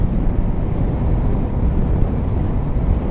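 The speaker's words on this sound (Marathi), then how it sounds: "या साईडने खूप जोरजोरात वारा येतोय." Strong crosswind roars into the microphone while riding a Yamaha Ray ZR 125 scooter on a long highway trip, a loud, constant low buffeting rumble with no other sounds standing out.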